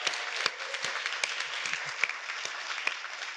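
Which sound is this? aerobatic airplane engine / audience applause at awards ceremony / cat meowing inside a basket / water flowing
audience applause at awards ceremony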